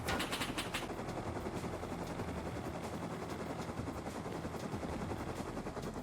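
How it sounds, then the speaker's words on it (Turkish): An M2 machine gun firing in the game Rust: a loud, sustained stream of rapid automatic fire runs unbroken for the whole stretch over a heavy rumbling wash. "M2 kanka 100 mermi falan sıkıyor."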